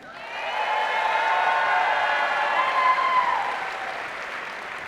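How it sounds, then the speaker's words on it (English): A crowd at a FIRST robotics district event opening ceremony applauds the rookie teams, a steady wash of clapping that swells and then eases off slightly, with music faintly underneath. "let's give a big round of applause to all the rookie teams."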